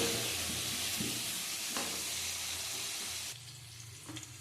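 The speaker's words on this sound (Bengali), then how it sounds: "ভালো করে ঢেকে ঢেকে ভেজে নেব" Salted, turmeric-seasoned cauliflower frying in a covered pan, a soft steady sizzle with occasional stirring scrapes, quieter toward the end.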